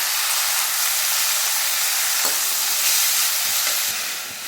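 Sliced tomatoes hit a pan of half-sautéed onions for a tomato kurma, setting off a loud, steady sizzle and hiss with a few soft stirring knocks, and no voices.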